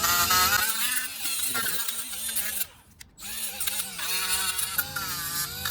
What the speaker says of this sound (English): go ahead and take your die grinder.